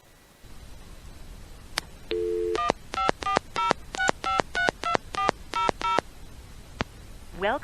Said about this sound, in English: you just dial a long distance call and it goes through